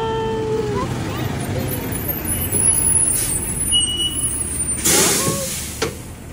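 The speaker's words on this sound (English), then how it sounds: "here comes the bus" A bus pulling up and stopping, its engine rumbling steadily with a sharp hiss of air brakes releasing near the end, close by and fairly loud.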